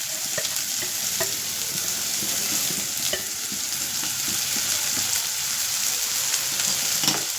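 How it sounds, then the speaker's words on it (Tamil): Chopped onion and green chilli frying in hot oil in a pan: a loud, continuous sizzle and crackle, broken by scattered sharp ticks and scraping stirs, with no voices. "இப்போ வெங்காயமும் பச்சை மிளகாவும் வெட்டி வச்சுருக்கோம்"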